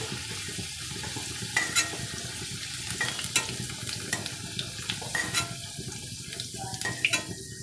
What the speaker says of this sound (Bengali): এবারে আমি একটা পাত্রে আলু তুলে নেব